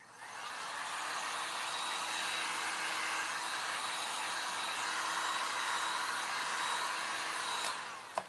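A hair dryer blows steadily on cracked gesso paint for an aged patina, a constant airy whir that holds evenly for several seconds before cutting off with a click.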